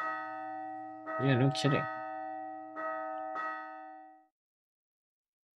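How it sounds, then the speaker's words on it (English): A town bell rings in the video game Lost Sphear, sounding as sustained resonant tones with a couple of stronger struck peaks, heard under brief talk and then cutting off abruptly into silence. "The bell stopped ringing."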